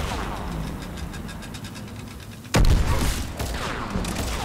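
Gunfire from the video game Mass Effect 3 as a vanguard charges in from behind cover: a dense, steady fusillade of rapid shots, then a sudden loud blast at the midpoint followed by further bursts and impacts, close and heavy.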